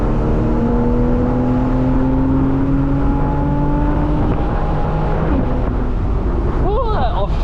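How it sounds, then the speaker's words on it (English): A 2013 Porsche 911 Carrera S Cabriolet in sport mode drones steadily from inside the cabin, with the engine note rising through a gear and then shifting up near the end over steady road and wind noise. "that upshift is so cool. right there on that corner."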